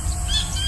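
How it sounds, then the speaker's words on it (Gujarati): A kingfisher gives a brief, high chirping call over a steady low background hum, short and fairly faint. "kingfisher"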